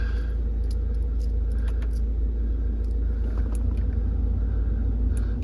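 A Ford Kuga 2.0 TDCi diesel engine idles with a steady low rumble, a few light clicks and rattles scattered over the constant hum.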